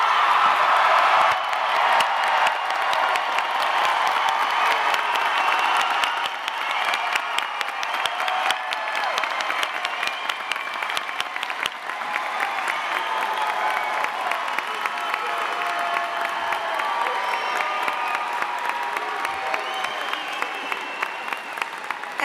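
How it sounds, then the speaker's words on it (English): Large high school graduation crowd giving a long, loud round of applause, dense clapping mixed with cheers and whoops that stays strong from start to finish. "give them the biggest, loudest round of applause you can possibly give them."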